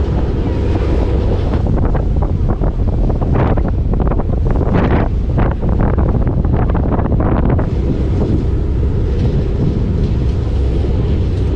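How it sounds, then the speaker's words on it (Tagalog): Strong wind roars across the microphone out on Sydney Harbour near Balmain East, a loud continuous buffeting rush with gusty surges and water noise beneath, no voices heard. "Lakas ng hangin."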